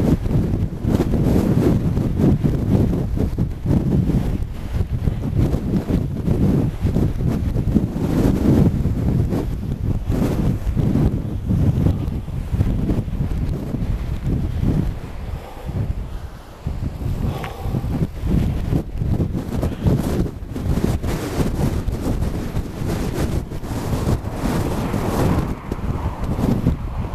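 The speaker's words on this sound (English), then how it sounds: "The wind is that bloody strong, it feels like they're getting rips off my face." Strong wind buffets the microphone on an exposed hilltop crossing Shap, a constant loud roaring rumble with gusting surges throughout and no speech.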